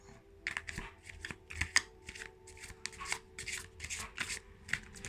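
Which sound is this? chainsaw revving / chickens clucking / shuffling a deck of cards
shuffling a deck of cards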